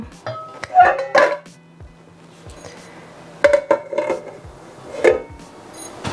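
A lid is set on a metal pot of blended fish curry, giving a few sharp clinks and clanks spaced over several seconds against an otherwise quiet kitchen.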